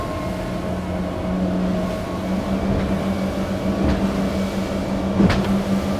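An X-Power 33 motorboat accelerating at speed on a sea trial gives a loud, steady engine drone with rushing water and wind and occasional hull thumps, heard from on board with no voices.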